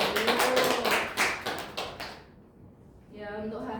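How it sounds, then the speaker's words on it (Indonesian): A classroom audience claps in a quick, fairly close burst of applause for about two seconds, then falls quiet before a voice begins. "Beri tepuk tangan untuk kita semua dulu."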